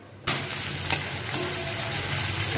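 Boiled potatoes frying with a paste of ginger, green chili and tomato, a steady close sizzle with faint stirring scrapes that starts abruptly and runs on unbroken.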